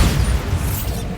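A Bombarda spell blast goes off in the Hogwarts Legacy video game, a loud, close, booming explosion that rumbles heavily in the low end and fades within about a second.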